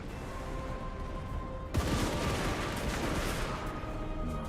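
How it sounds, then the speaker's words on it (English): Hand gunners fire a massed volley in the battle game Total War: Warhammer, a loud sudden crackling fusillade bursting over steady battlefield din and continuing as a dense roar. "Hand gunners!"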